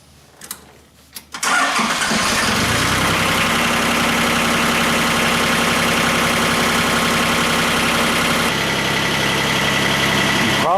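A John Deere 1050 tractor engine cranks with a few sharp catches, then fires up and settles into a loud, steady diesel idle that runs uninterrupted for the rest of the time.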